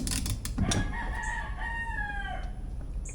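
A rooster crows once up close, its drawn-out call rising and then trailing off, with a faint low rumble running underneath.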